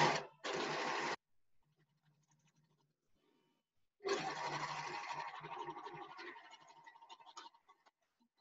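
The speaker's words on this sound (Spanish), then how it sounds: "Voy a coser acá el tiro con la remalladora" Overlock machine stitching the crotch seam of sports leggings: two short bursts of whirring, a pause of near silence, then a longer run of stitching that tapers off, fairly quiet and close.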